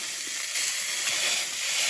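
Thin smashed deer burger patty sizzling on a hot griddle, a steady bright hiss throughout with no voices, fairly close.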